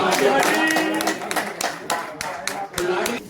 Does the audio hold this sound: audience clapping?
yes